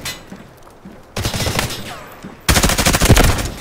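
Gunfire rings out in an extraction shooter video game: rapid automatic bursts, a first volley followed by a louder, denser one, close and loud.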